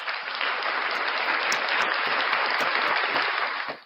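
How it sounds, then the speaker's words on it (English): Continuous crowd applause from fans at a live show, a dense wash of clapping that holds steady for a few seconds and then fades. "round of applause for the best fans in the world, you guys"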